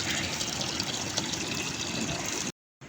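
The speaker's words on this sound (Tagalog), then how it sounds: "kumulo na yung tubig" Water boils vigorously in a cooking pot on the stove, a steady loud bubbling and hissing that cuts out abruptly near the end.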